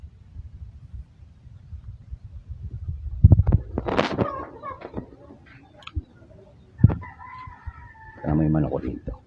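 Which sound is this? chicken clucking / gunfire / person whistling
chicken clucking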